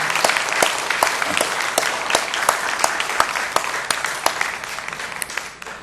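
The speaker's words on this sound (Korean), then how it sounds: "함께 뜨거운 격려의 박수로 여러분 서로 박수해 주시고 격려해 주시면 좋겠습니다" A church congregation bursts into warm, encouraging applause: dense, sustained clapping from many hands, close and steady for several seconds before thinning slightly at the end.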